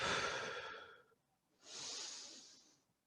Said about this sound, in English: Every time you rise up, take a really deep breath